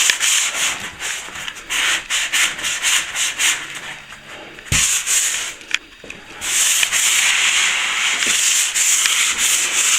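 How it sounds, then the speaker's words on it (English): A sponge sander rubs over plasterboard joins in repeated scratchy strokes, loud and close, with short pauses between passes and no talking. "You just check up with a sponge sander if you like."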